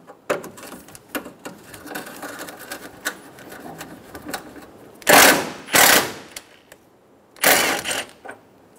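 A 12 mm socket ratchet turns radiator bracket bolts on a 2010–2014 Subaru Outback, giving scattered close clicks and sharp metallic bursts, with a few louder rasping runs of ratcheting toward the end.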